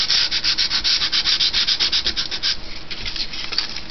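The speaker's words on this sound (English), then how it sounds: "I'm just going to bend it just a bit, just to run my sandpaper down the edges" Sandpaper rubbed along the bent edges of cardstock for a distressed look, a rapid rhythmic scratchy rasp of close strokes that slows and softens toward the end.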